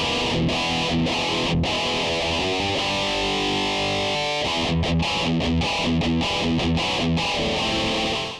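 Distorted electric guitar played through the Harley Benton JAMster's built-in distortion tone at its first level, a steady run of chords and notes ringing on alone with dense fuzzy sustain.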